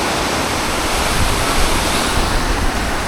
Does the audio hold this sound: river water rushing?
yes